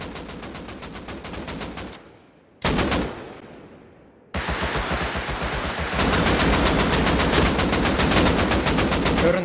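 An AK rifle fires in Rust on console in rapid, loud automatic bursts, then pauses with an echoing decay. A single sharp shot follows, then a long, steady stream of close automatic fire runs to the end.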